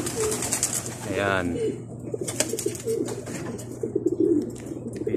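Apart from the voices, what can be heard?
racing pigeons cooing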